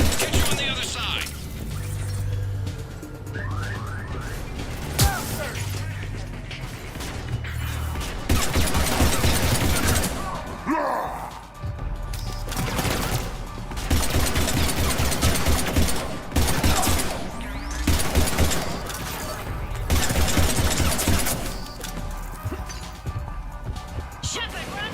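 Heavy gunfire in the video game Mass Effect 3: Legendary Edition, with rapid bursts of weapon fire, crashes and impacts going on almost nonstop. Characters talk over the battle noise.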